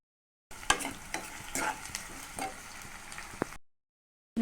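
Onions and green chillies sizzle softly in a pan with mustard and cumin seeds while a spatula scrapes and stirs in a few quick strokes, close and fairly quiet, with no voices.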